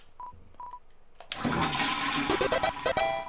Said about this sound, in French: Vous avez tiré la chasse d'eau.